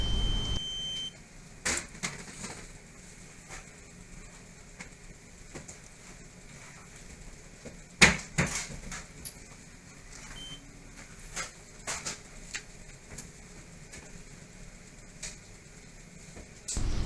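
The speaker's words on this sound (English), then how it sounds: "Apart from hearing the alarm, we can also see the relevant indicator lights on both the head and the unit," A reconditioned oil mist detector head sounding its alarm during a smoke spray test: a brief electronic tone at the very start, followed by faint clicks and handling noises in a quiet machinery space.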